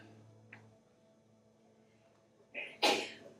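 A single abrupt sneeze near the end of a quiet restorative yoga class, following a faint earlier click amid a low room hum.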